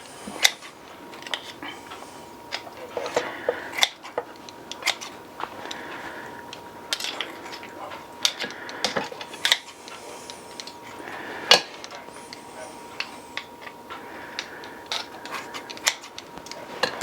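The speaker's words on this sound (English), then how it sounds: "we'll get hold of it and we'll cut it with scissors" Scissors snip through Korean BBQ kalbi short ribs between the bones: a steady series of crisp, close clicks and cuts with uneven gaps, and no talking.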